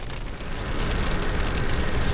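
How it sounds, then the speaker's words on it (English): Hail and rain hammer on a truck during a thunderstorm, a steady loud roar of dense patter that thickens and grows louder partway through. "We're still sitting in the truck, and you can see it's pretty much hailing / snowing."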